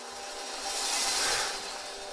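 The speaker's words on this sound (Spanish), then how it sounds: "No quiero escuchar más ruido de sierras." Saw noise in the video game Limbo: a continuous harsh whirring grind that swells louder midway and then eases back, heard alone with no talk.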